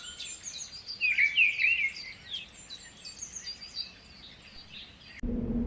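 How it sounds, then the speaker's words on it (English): Birds chirp in quick high bursts over a soft outdoor hush, clustered early and then fading to scattered calls before a brief low rumble cuts in. "the chirping sounds of birds"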